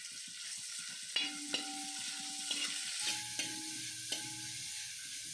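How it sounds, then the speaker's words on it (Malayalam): Sliced onions with salt sautéing in spiced oil for Kerala-style chicken biryani, a soft steady sizzle broken by a few spatula knocks against the pot, with music underneath. "അതിലേക്ക് രണ്ട് വലിയ സവാള സ്ലൈസ് ചെയ്തത് ഇട്ട് കൊടുക്കുക ഒപ്പം തന്നെ ഒരു ടീസ്പൂണിൻ്റെ മൂന്നിലൊന്ന് ഭാഗം ഉപ്പ് കൂടി ചേർത്ത് വഴറ്റിയെടുക്കാം"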